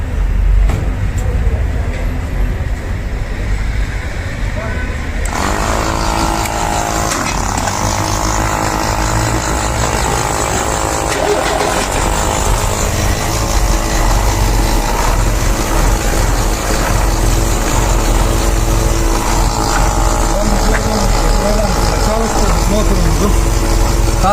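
A car engine running on gasoline vapor fed through the carburetor idles steadily and loudly throughout, a constant rumbling drone that grows richer after a few seconds, with a voice talking faintly beneath it.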